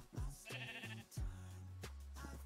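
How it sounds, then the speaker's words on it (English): A sheep in the Minecraft video game bleats a few times in short, clear calls, heard close and fairly quiet with no speech. "Sheep. Thank you."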